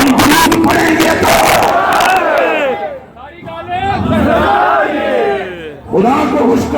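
A large crowd at a fiery religious gathering chants slogans together in loud, swelling voices, with a brief dip midway before the massed chanting surges back.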